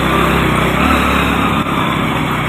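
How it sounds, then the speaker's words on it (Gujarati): A motorbike grinds up a steep, rough slope at the Dharoi adventure festival. Its engine drones loudly and steadily, close by, with no voices. "અમે બાઇક લઈને સડીએ છીએ."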